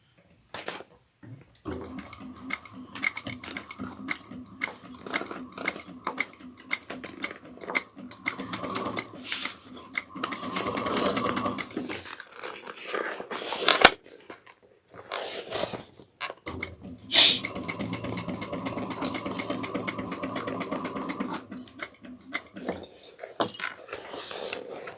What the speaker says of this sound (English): we're going to start sewing